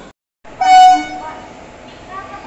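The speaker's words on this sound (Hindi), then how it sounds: "हमारा ट्रेन 6 नंबर प्लेटफॉर्म पर रेडी है।" A train stands ready at a platform of Visakhapatnam station, with a loud sustained horn toot rising out of station ambience for about half a second and fainter tonal rail sounds trailing after.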